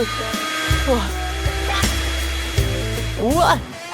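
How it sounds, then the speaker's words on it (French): A hair dryer runs steadily with a constant whirring hum, accompanied by cartoonish musical tones and sliding effects over a continuous drone throughout. "j'ai besoin d'un sèche-cheveux pour me réchauffer."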